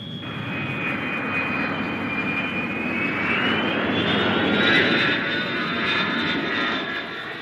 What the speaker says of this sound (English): A reliable jet fighter checked out with military precision every time it left the ground.